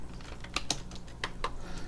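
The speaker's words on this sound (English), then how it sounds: "And so you hear me typing. I'm just typing a message in there." Keys on a computer keyboard clack in a few separate, crisp taps, close and moderately loud over a quiet room hiss.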